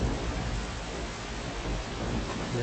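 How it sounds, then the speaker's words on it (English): Thunderstorm in the video game No One Lives Under the Lighthouse: a steady, loud roar of rolling thunder and heavy rain fills the whole stretch without a break, with no talking over it. "Like these roaring sounds of the lightning?"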